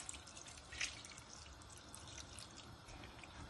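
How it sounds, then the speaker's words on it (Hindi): Water poured from a cup into a pot of mince and lentils for chicken shami kebab, a faint steady trickle with a few drips, quiet and close. "मैं इसमें पानी डालती हूँ"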